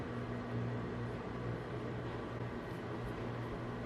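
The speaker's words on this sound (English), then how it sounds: "You're microwaving that?" Steady low mechanical hum from a running microwave oven, with a constant drone and faint hiss, unbroken for the whole stretch.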